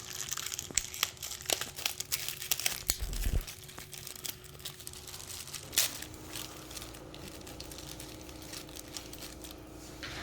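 Plastic packaging around silver bolts for a cartridge assembly being torn open: close crinkling and crumpling with sharp ripping snaps, fairly faint and continuous.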